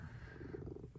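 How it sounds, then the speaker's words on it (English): A cat purrs softly while sitting in a person's lap, a faint low rhythmic rumble heard close up and alone. "if you can hear purring, it is Mo."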